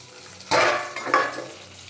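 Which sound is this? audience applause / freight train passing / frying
frying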